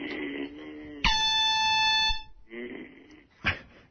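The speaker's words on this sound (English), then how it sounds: "Try the air horn." A single loud air horn blast in a radio studio cuts through for about a second, a harsh tonal honk between bursts of talk and laughter.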